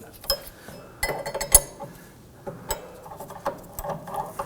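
A metal tool works on the inner tie rod of a 2008-2011 Ford Focus, making close, irregular clicks, clinks and metallic knocks with brief pauses between them and faint background noise.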